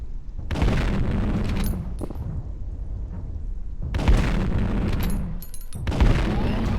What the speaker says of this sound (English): Okay, now shoot the dummies.